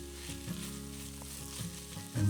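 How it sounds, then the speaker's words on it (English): Garlic and bell peppers sautéing in a pan, giving off a steady, moderate sizzle with faint stirring scrapes and a louder burst at the very end. "Now we're going to add our garlic and cook it for maybe a minute until it's fragrant"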